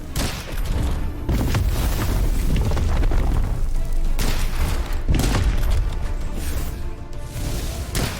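In the game Witchfire, a fired elixir sets off heavy, sustained explosive blasts, with deep booming bursts and crackling roar filling the scene for several seconds, loud and close, no talk.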